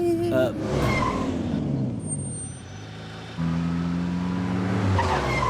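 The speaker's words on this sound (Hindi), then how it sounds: "ए अब्दुल, गाड़ी निकालना जल्दी, चल जा।" A car pulling away with squealing, skidding tires in an urban street scene from a 2018 Hindi-dubbed South Indian action film, loud and close with rising engine and tire noise; voices are briefly heard around it.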